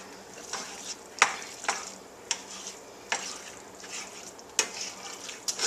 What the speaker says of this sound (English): I'm just kind of stirring this tomato soup into this